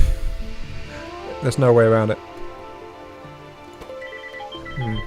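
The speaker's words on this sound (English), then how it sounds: "that was my phone deciding to be stupid" A mobile phone gives out a short electronic ringtone burst mid-clip while someone talks over it. The close-miked voice continues before and after the ring.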